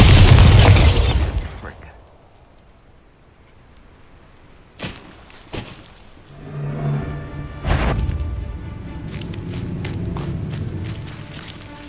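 A Bombarda spell goes off in Hogwarts Legacy as a loud, booming blast at the start that fades into quiet. Footsteps and sharp cracks and pops follow, with game sounds beneath them.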